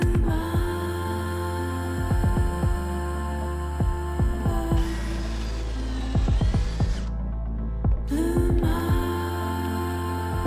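A power drill bores pocket holes into new wood boards for a DIY coffee table, the motor whining in repeated short bursts with clicks between, close and loud, with no talking.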